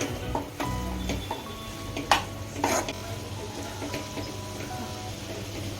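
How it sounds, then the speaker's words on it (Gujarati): Spoon stirring cooked radish-greens curry (mooli bhaji shak) in a pan: soft scraping and a few metallic clinks against the pan over a steady low background, close and moderate, with no talk. "હવે એક વખત પહેલાં હલાવી કાઢીએ એને."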